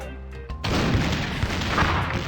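Gunfire in the video game The Curse of Monkey Island: after a short quiet start, a loud, booming burst of shots erupts and rolls on as a dense, continuous barrage with no talking.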